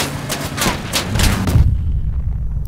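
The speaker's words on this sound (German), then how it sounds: "Jetzt hat er geschossen." Gunfire and heavy booming shots from vehicle combat in the video game Crossout, several loud bursts in quick succession, then a deep rumbling impact that fades into a low drone.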